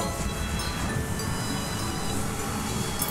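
Four battery-powered toy Thomas the Train engines circle a plastic track together, giving a steady close rattling whir with faint high squeaks throughout.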